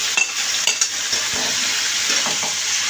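Okra and potato pieces sizzle and fry in hot oil for a Bengali okra chorchori with onion, while a spoon stirs and scrapes the pan in a few soft strokes under a steady close hiss.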